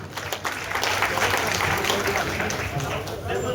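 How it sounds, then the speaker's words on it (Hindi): Crowd applause at a Haryana HUDA workers' union ceremony honouring a retiring staff member, a dense steady clatter of clapping held throughout, with voices mixed in underneath. "जोरदार तालियां"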